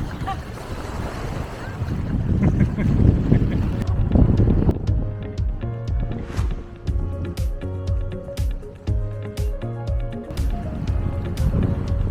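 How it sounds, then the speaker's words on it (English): Strong wind gusting into the microphone in the old town of Split, Croatia, loud roaring buffets for the first few seconds that ease into lighter rumbling gusts with brief clicks and a faint voice. "Are you fighting with the wind?"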